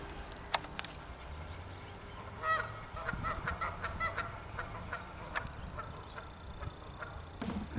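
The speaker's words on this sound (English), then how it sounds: "It's a pair of geese out there through them weeds." A pair of geese honking from the weeds along a creek, a series of short distant honks that bunch together in the middle, over faint outdoor background noise.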